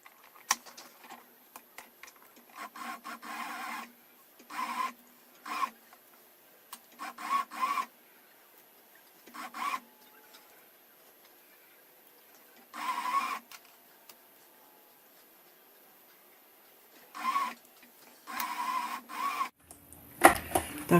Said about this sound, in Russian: Наматываем, как обычную нитку, в челнок. Устанавливаем шпульку для намотки.